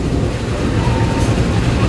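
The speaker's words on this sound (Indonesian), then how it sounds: "ini dia lokomotif dinas kereta api Pandalungan pakai CC 2039808" A CC 203 diesel locomotive hauling the Pandalungan passenger train gives a loud, steady rumble heard close by, with no talking.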